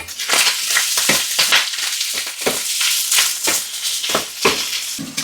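Rapid fork or whisk strokes beating eggs in a bowl for a Spanish tortilla, a fast irregular run of bright clicking and sloshing beats, close and fairly loud, with no talking.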